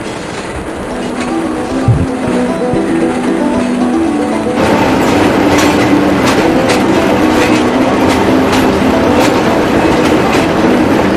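A train rolls steadily along the Hobo Railroad tracks between Meredith and the Weirs, New Hampshire, rhythmic clacking of wheels over rail joints growing louder and fuller partway through, with no voices.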